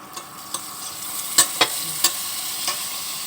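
Butter sizzles as it melts in a hot pan while chicken pastel is being cooked. A steady low hiss runs underneath, broken by a few sharp clinks and scraping stirs, and no one speaks.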